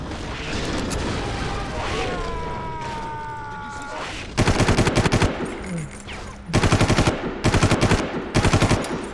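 Automatic gunfire in Far Cry, loud bursts of rapid shots in several clusters following a stretch of rumbling ambience with a whining tone, close and dominant.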